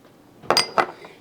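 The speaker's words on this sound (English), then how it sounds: "you are going to stir it consistently until rice is puffed and golden" Rice browning in a pan with cumin and salt while being stirred, heard as two clear metallic clinks of a utensil against the pan, then a fainter third scrape, all close and with no voices.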